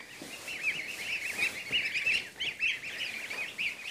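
Farm poultry calling continuously, a dense chorus of honking and clucking fowl such as geese and ducks, fairly close and steady with no one talking.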